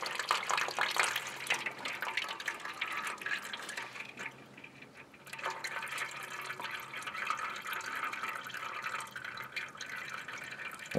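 Automatic transmission fluid running out of a tipped-down transmission pan, a steady trickling and splashing pour with small drips, faint and close, with no talk.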